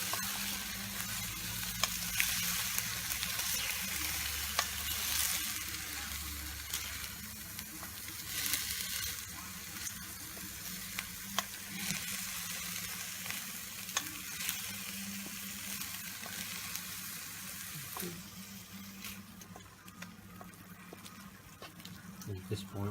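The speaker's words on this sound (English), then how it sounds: "And at this point we just let that steam away till that heats up and it'll like boil a bit." Chicken pieces sizzle and bubble in a hot pan with oyster sauce and chicken stock, a continuous crackling fry with stirring scrapes, as the liquid steams and starts to boil, heard up close with talk over it.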